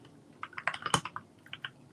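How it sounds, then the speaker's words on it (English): Rapid clicking keystrokes on a computer keyboard, a close, irregular burst of taps with one louder key strike in the middle, fading to a few scattered presses. "we heavily typing right now."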